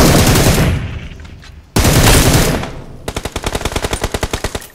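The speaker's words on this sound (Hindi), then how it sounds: "यहाँ पे अभी भी फायरिंग आ रही है" Gunfire in BGMI / PUBG Mobile, loud and close: two heavy blasts each trail off into a rumble, then a rapid automatic burst of evenly spaced shots follows.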